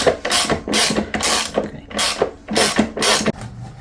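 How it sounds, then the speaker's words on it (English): A ratchet on a long extension clicks in short rhythmic bursts while loosening a bolt on a BMW GS motorcycle's front shock, the close, sharp pawl clatter repeating about eight times with brief pauses between strokes. "with the long extension we can get to this bolt quite easily. So just loosen up and it comes out."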